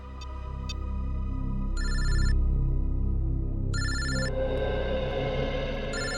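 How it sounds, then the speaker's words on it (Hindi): A telephone rings in bursts of electronic trills, two distinct rings separated by a pause, loud and close over a background music bed. "अरे तुम्हें ही फोन लगा रहा था,"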